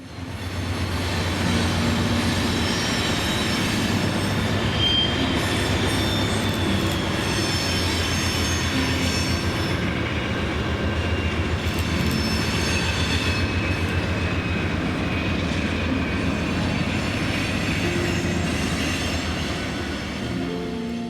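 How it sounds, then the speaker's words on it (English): An eastbound Union Pacific loaded coal train, powered by a pair of unrebuilt AC44 locomotives, rolls past near Santa Fe Junction in Kansas City. It makes a loud, continuous rumble of wheels with squealing and clacking, sustained throughout. "an eastbound Union Pacific loaded coal with a pair of unrebuilt AC44s for power"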